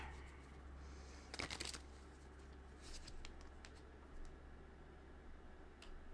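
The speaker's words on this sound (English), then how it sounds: "Let me just get one more card." A single tarot card is drawn from the deck: soft papery rustles and a few brief snaps, quiet and close, with no one speaking.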